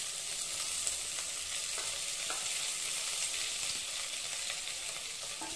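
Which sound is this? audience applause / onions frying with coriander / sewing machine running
onions frying with coriander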